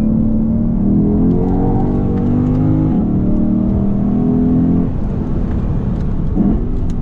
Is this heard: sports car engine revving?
yes